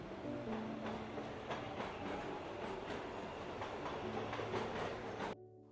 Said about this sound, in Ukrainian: Підземний транспорт це метро.